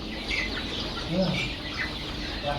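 Brown layer chickens and black farm chicks on a poultry farm, with soft clucks and faint peeping chirps scattered over a steady background murmur.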